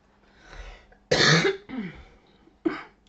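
Three harsh coughs break out close by, the first and loudest followed by a weaker one and a short final cough, with quiet breathing between them.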